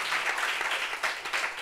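Audience applause at a family gathering: dense, steady clapping from a crowd, close and fairly loud, swelling slightly in bursts for the full stretch with no voices standing out.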